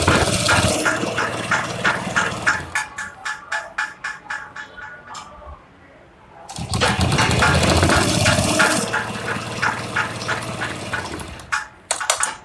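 A sewing machine stitches along a fabric edge for a child's summer dress, running loud and steady in rapid mechanical pulses, pausing briefly partway through, then starting up again at the same close, busy pace.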